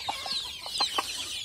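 Local village chickens on a small farm give a few soft, scattered clucks, moderately close but quiet, with no voices over them.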